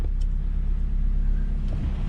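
A small 5-speed manual truck drives with a steady, close, low engine rumble and road noise, holding an even pitch throughout with no talking.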